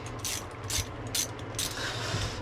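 The ratchet of a small, well-worn socket wrench, four or five bursts of rapid clicking in a steady rhythm, close and clear over low background hum.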